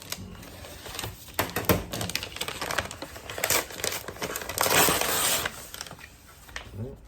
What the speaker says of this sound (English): Just tear it, how about that?